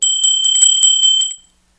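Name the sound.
notification bell ringing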